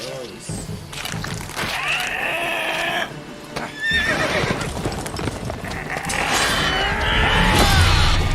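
A horse in the Witcher 3 video game neighs and whinnies loudly several times, the calls rising and falling over hoof clip-clops and game noise.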